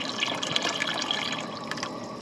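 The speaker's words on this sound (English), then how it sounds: "I'm also gonna add some water." Water is poured into a pot of sauce on the stove, a brief splashing, trickling sound heard close and alone.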